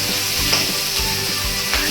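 Onions sautéing over a raised flame in a pan for chilli chicken give a loud, continuous sizzle, with soft scraping from stirring running through it.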